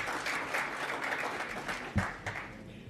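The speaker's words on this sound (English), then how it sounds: "round of applause, please" An audience applauding in a conference hall, a dense, fairly quiet wash of clapping that continues for the whole stretch, with one louder thump near the middle.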